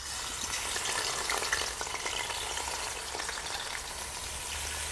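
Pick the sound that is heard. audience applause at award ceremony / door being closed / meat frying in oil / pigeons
meat frying in oil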